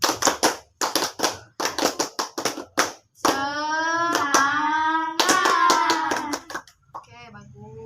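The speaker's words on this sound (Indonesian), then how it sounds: "Oke, tepuk semangat." A group of students does the tepuk semangat clap routine in a counseling session, sharp rhythmic handclaps in quick sets, then rising sung chant-like voices join over the claps before a final short burst.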